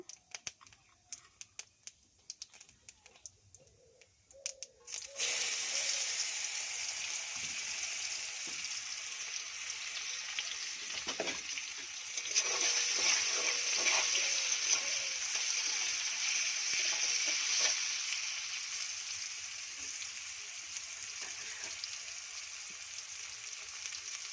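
Chopped onions frying in oil in a pan for a Bengali egg and potato curry, a steady loud sizzle that starts abruptly after a few seconds of quiet clatter and continues without talk, swelling briefly midway.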